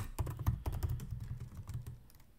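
Computer keyboard keys clatter in a quick, irregular run of close, crisp clicks while someone types out code, with no talk over it.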